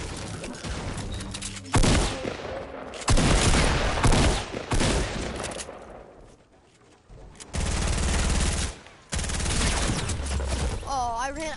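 SMG gunfire in the Fortnite video game, loud rapid bursts of shots in several long runs separated by short pauses, with a voice talking under them.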